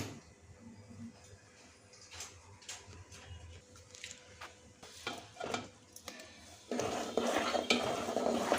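Red chillies and asafoetida fried in a pan while being stirred for a spicy mango chutney, with a spoon scraping and clinking against the metal. Low sizzling runs underneath, and the frying turns louder and denser near the end.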